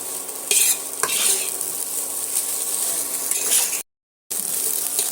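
Semolina being stirred in a pan for sooji halwa, a continuous dry scraping and soft sizzle with occasional spoon clinks, close and steady, then a short dropout of silence.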